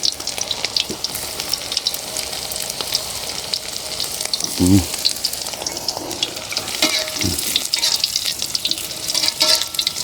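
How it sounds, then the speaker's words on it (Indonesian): Tempe frying in hot oil in a home kitchen gives a steady, close sizzle and crackle throughout, with a few soft stirring knocks and no talking. "Kita goreng sampai kering lur ya, sampai warnanya kuning keemasan."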